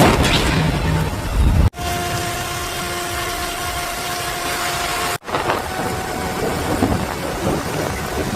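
Heavy rain pours in a drama scene, with low rumbling that suggests thunder. The roar is loud and continuous, broken by two abrupt cuts to near silence.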